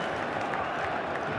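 Home supporters at Pride Park roar in a steady, broad wash during a Derby versus Stoke FA Cup fourth round match, loud and continuous with no single voice standing out.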